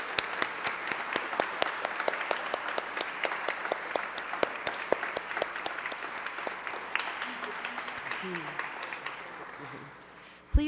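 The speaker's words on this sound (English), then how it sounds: "please give another round of applause" Steady audience applause at a jazz concert, a dense patter of many hands clapping that continues at an even level and then fades toward the end.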